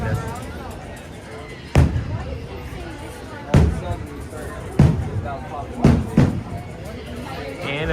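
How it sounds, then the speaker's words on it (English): Fireworks bursting at Disneyland at night, a few sharp booms spaced a second or two apart, with steady crowd and park noise running beneath. "You guys can probably hear the fireworks behind us."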